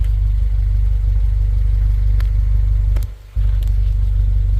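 Stock first-generation Honda CR-V (RD1) with a Yonaka catback exhaust idling close to the tailpipe, a loud steady low rumble that briefly dips and returns, with faint clicks on top.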